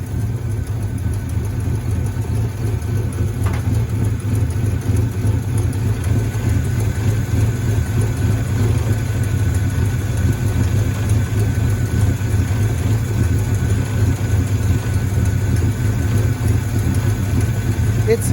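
A 1978 Ford F-250 crew cab with a 460 engine idles steadily and loudly throughout, its low uneven rumble loading up as if close to stalling.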